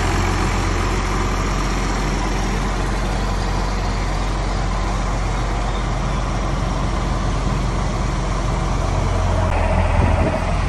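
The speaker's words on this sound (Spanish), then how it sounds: "El CAS está con la toma de fuerza ahí, está regulando porque esto es hidráulico." A Case Axial-Flow combine's engine idles with the power take-off engaged and its hydraulics regulating, during rotor removal with a hydraulic boom. A steady, loud, close engine drone holds unchanged for the whole stretch, with no talking.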